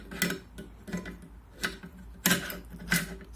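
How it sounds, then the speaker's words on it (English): Rifle charging handle and bolt carrier group slid into an AR-style upper receiver, giving several sharp metallic clicks and clacks spaced irregularly over a few seconds, close and fairly crisp with a faint background hum. "we're just going to take our charging handle, slide that up in there, get our bolt carrier group,"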